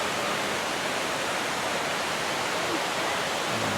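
Hulugan Falls, a tall waterfall in Laguna, roars as a dense, steady rush of falling water, loud and unbroken throughout with no other sounds standing out.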